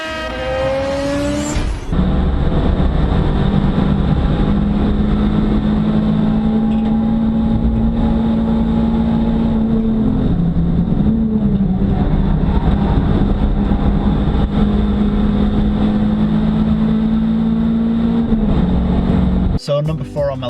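Mazda MX5 on a race track, a loud sustained engine drone holding a steady pitch through most of the run, with a brief dip mid-way and a shift in tone near the end as the car passes.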